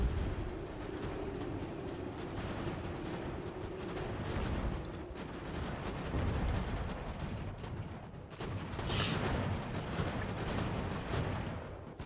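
Artillery fire in the strategy game Ultimate General: American Revolution, set around Fort Ticonderoga: a continuous low rumbling barrage of cannon booms and battle noise, steady and fairly loud, with no speech.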